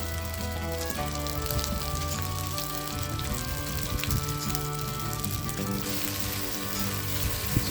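Mini meatballs frying in a Trangia Mini 28 pan, a dense continuous sizzle and crackle with scattered pops, steady and close throughout.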